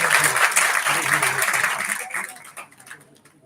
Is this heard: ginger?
no